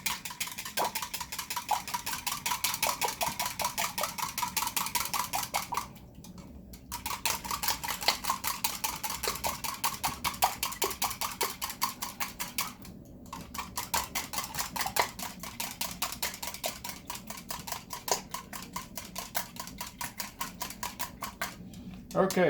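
Vanilla being mixed into batter in a bowl, rapid rhythmic clinking and scraping of a utensil against the bowl, close and steady with two brief pauses.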